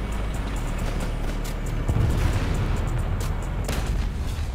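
Tank cannon shots in War Thunder, fired from a T-80B, come as a couple of heavy booms spread over a few seconds above a constant engine rumble.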